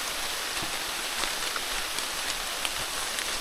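Rain falls steadily, a soft even hiss with faint scattered drips, moderately quiet and without voices.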